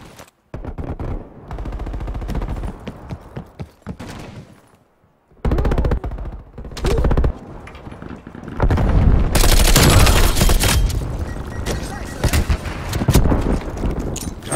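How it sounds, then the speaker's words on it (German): Enemy turret fire in Call of Duty Black Ops Cold War rattles in rapid machine-gun bursts, growing louder and denser toward the end, punctuated by booming impacts. "Feindliches Geschütz aktiv."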